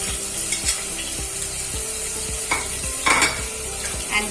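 Ginger garlic paste frying in a pan for mutton marag, with a soft steady sizzle under repeated scraping stirs and a brief splash of running water partway through.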